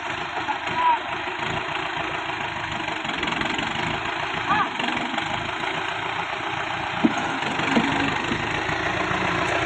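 Tractor engine running steadily during a tug of war in a muddy field, a Mahindra Arjun NOVO 605 4WD or a Sonalika 60 RX, a constant mid-pitched drone with faint knocks and crowd noise underneath.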